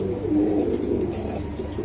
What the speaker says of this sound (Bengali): এই যে দেখেন বন্ধুরা কবুতরটা, দুইটা কবুতর ফাটাফাটি কোয়ালিটি ফুল কবুতর